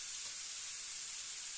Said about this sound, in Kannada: ಈ ಥರ ಸ್ವಲ್ಪನೇ ಎಣ್ಣೆಯಲ್ಲಿ ಚೆನ್ನಾಗಿ ಇದು ಫ್ರೈ ಆಗಬೇಕು